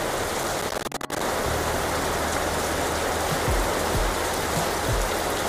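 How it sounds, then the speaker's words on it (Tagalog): Heavy rain pours down in a dense, continuous roar of drops on surfaces, loud and unbroken, with a faint low hum underneath. "La, lumakas yung ulan guys."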